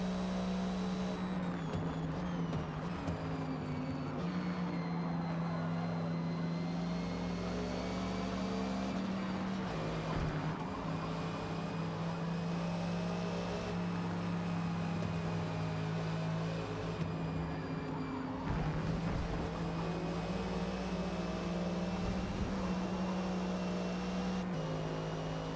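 Race cars in Open A Class on the Forza Motorsport video game, a steady high engine drone with shifting pitch as the car powers through corners, sustained and fairly loud with brief gear-change dips.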